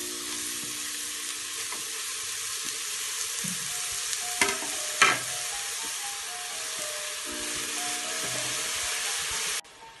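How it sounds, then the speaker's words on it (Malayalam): Grated bottle gourd and carrot sauté in ghee in a pressure cooker, giving a steady close frying sizzle with stirring scrapes throughout and a couple of brief louder clatters midway, with no talk. "അതിലേക്ക് ഗ്രേറ്റ് ചെയ്ത ചുരങ്ങയും ക്യാരറ്റും ചേർത്ത് കൊടുക്കാം."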